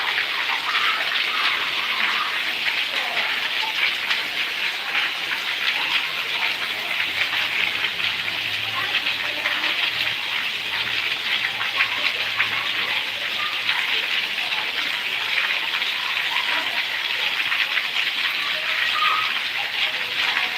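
Heavy rain pouring in Patan with rushing, wave-like floodwater; a loud, dense, unbroken roar of rain and gushing water fills the whole stretch evenly, close by.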